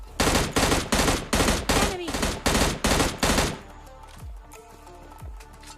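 Rapid bursts of M249 light machine gun fire in PUBG Mobile Lite, eight loud evenly spaced volleys over a few seconds, followed by quieter scattered game sounds.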